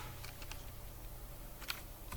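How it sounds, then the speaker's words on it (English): Faint keyboard taps while typing C++ code, a few soft scattered keystrokes over a steady low hum and background hiss. "we will just have to type cout,"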